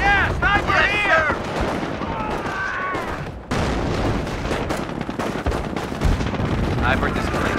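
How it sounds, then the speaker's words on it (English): Machine gun fire rattles through a Company of Heroes battle in Cherbourg during the Normandy invasion, with dense bursts and booms loud and close under overlapping soldier voices shouting. "MG gunner up and firing"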